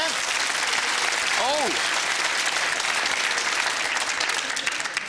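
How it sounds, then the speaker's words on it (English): A studio audience at a 1997 quiz show gives sustained, full applause that stays loud and even throughout, with a brief exclamation near the start. "Give yourselves a round of applause there."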